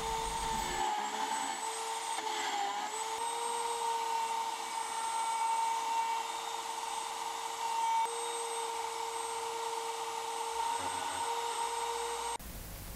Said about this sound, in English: I'm using the milling attachment on the lathe to cut out the lettering with the Dremel.